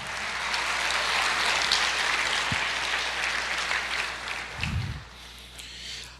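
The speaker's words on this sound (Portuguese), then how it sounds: "Você pode aplaudir o Senhor," A church congregation applauds steadily during a sermon on the return of Christ, a dense wash of clapping filling the space at moderate level, with a brief low thump near the end and no talking.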